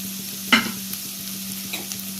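Masala frying in a pan for a Tamil black-eyed pea kulambu, with a single sharp stirring scrape followed by a soft, quiet sizzle and a faint steady hum, no talking.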